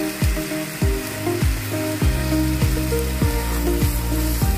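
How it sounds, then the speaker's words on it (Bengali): Spices being sautéed in a pan with garlic, a continuous loud sizzle broken by regular sweeping scrapes of a utensil, roughly one every half second, with no talking. "এবার এর মধ্যে মশলাগুলো দিয়ে আরেকটু কষিয়ে নেব।"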